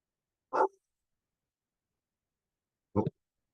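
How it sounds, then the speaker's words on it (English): A dog barks somewhere in the background, two short, separate barks a couple of seconds apart with silence between them, fairly faint and distant. "My dog says hi. I don't know if you can hear him barking in the background."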